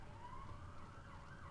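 Two police cars speed past with their sirens on. The wavering wail is faint and distant, like background noise reaching an indoor room, and no one speaks over it.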